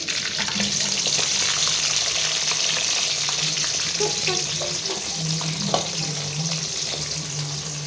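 Green chillies and onion frying in a pan, a loud, steady close sizzle throughout with occasional scraping and stirring clinks.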